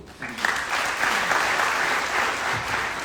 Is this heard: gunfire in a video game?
no